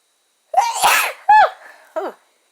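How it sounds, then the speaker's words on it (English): A person lets out a loud, close sneeze with a drawn-out wind-up, followed by two shorter breathy vocal bursts. "I think I'm about to sneeze too, so if I do, I'm sorry"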